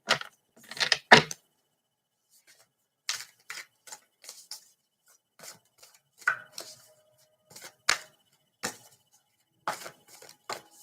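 Scattered quick riffling and tapping clicks come in short bursts with pauses between, fairly close and dry, like cards being shuffled and handled.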